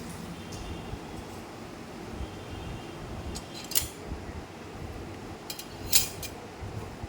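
Kashmiri chili powder and spices are stirred in a pan over a low frying hiss, with a few sharp metallic clinks and scrapes of a spoon against the pan, close and quiet.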